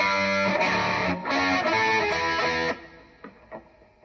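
Loud distorted electric guitar power chords chugging in short bursts, then cutting off into a few quieter muted picks.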